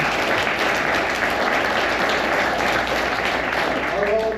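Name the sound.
audience applause for battlefield foundation volunteers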